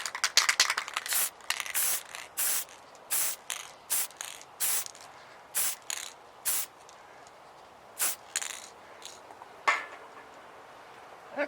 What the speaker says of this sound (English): And then we'll spray upward with the black to show those shadows.